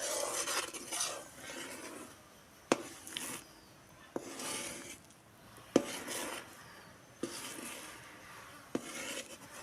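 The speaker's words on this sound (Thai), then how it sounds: "คนไปเรื่อยๆ ใกล้จะได้ที่ละ" Crab paste (nam pu) thickening in a pot, stirred steadily with repeated scraping strokes and sharp knocks of the utensil against the pot every second or two, close by and moderately loud.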